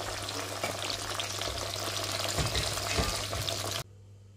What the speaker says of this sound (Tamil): இதே மாதிரி மீதி இருக்கிற பைத்தங்காயையும் நாங்கள் இந்த எண்ணெயில் போட்டு பொரிச்சு எடுத்துக்க போகிறோம்